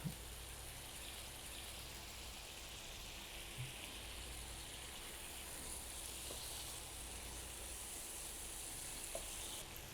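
Chicken pieces going into a curry masala in a pan give a steady, faint sizzle and crackle that runs the whole time, with a few small clinks and no talking.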